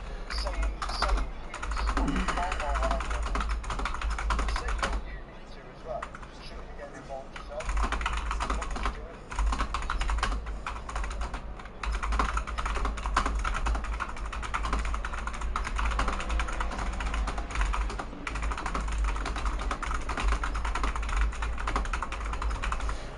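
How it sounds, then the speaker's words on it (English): Computer keyboard typing in quick bursts of clacking keys during an Assetto Corsa Competizione racing session, sitting under a steady engine drone and intermittent talk. "He's typing a message to me now."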